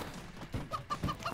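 Cartoonish chickens cluck in short, rapid bursts in the Moving Out video game, close and moderately loud.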